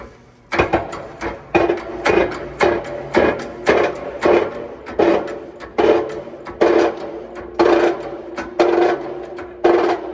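A wheel bearing knuckle is pressed onto the hub flange of a 2012 Toyota Matrix, giving a steady run of about a dozen sharp, evenly spaced mechanical thumps and clanks, loud and close, with no talking.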